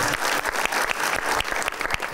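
A television studio audience claps to welcome a singer, a dense, loud burst of applause filling the whole short stretch with no pause.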